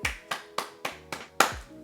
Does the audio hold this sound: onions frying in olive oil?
no